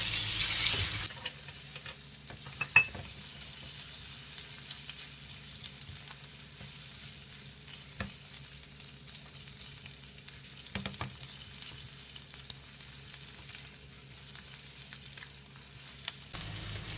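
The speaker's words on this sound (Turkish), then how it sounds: "2-3 dakika kadar şöyle tereyağında çevirmek yeterli." Sun-dried tomatoes sauté in butter in a pan, giving a steady, quiet sizzle with faint stirring scrapes across the whole stretch, no voices.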